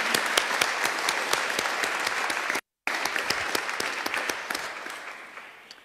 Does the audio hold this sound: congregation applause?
yes